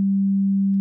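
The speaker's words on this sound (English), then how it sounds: "That's the sound of a sine wave." A pure sine tone from a Native Instruments FM8 oscillator holds steady and loud at a single low-mid pitch for under a second, with a faint click where it cuts off.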